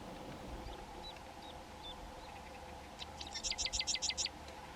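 A sedge wren in well-preserved rural grassland in winter gives a quick series of sharp, high, rapidly repeated trill notes, preceded by a few thin chirps, over a steady hum of background noise.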